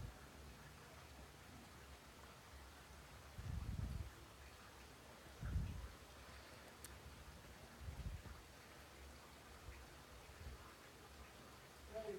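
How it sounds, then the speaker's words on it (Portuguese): Heavy rain mixed with snow falls steadily in a cold setting, a faint continuous hiss broken by a few dull low thumps, with no talk. "Tá chovendo muito."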